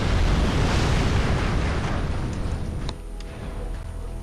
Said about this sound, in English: And right here comes some enemy artillery.